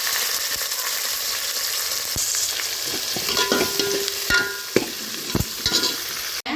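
Mustard seeds, fenugreek, curry leaves, shallots and garlic fry in hot oil for a fish kulambu, a steady close sizzle broken by sharp clicks of a spoon stirring against the pan.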